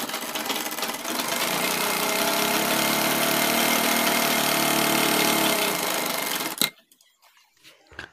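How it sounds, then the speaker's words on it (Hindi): A sewing machine runs loud and close for about six seconds, stitching the band of a piping shirt collar with a continuous buzzing drone, then stops abruptly and leaves near silence. "तो ये हम बैंड पट्टी के ऊपर सिलाई लगाएंगे तो इस तरीके से हमने इस कपड़े को खींच कर रखना है और इस तरीके से एक पैर की सिलाई लगा लेनी है"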